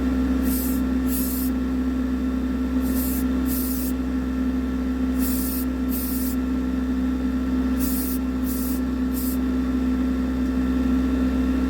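Short, hissing bursts from a spray can coat the body of a 1948–53 Dinky Toys Triumph 1800 diecast model. The bursts come in pairs and triplets over a steady low hum, and nobody speaks.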